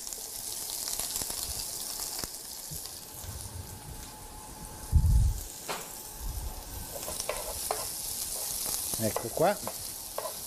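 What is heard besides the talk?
onion sautéing in a pan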